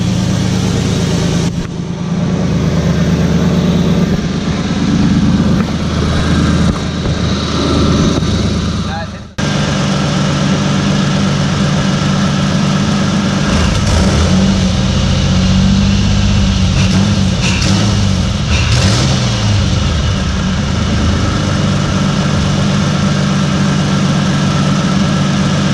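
A car engine, recently freed of oil leaks, runs and idles loudly and close by with a steady low rumble. The sound is briefly cut off near the middle before the idle resumes.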